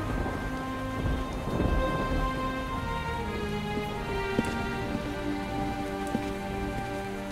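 Steady rainfall pattering on surfaces with low rumbling in the adventure game Chronicles of Mystery: The Scorpio Ritual, a dense continuous wash mixed with sustained tones and a few sharper drips.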